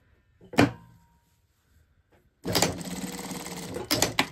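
A sewing machine stitching seam pockets into trousers: a brief mechanical knock, a pause, then a steady whirring run of stitching for about two seconds that ends in a few clunks.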